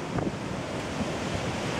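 Strong Hurricane Sandy winds in October 2012 batter the microphone, making a loud, continuous roaring rumble with gusty swells and no clear voices over it.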